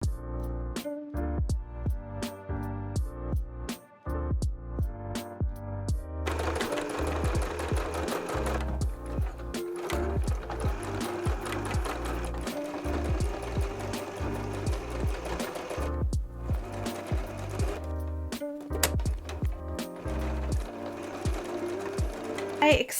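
A sewing machine stitches fabric in a fast, steady mechanical clatter that runs for long stretches with a few brief pauses, close and prominent, while a voice talks at times over it.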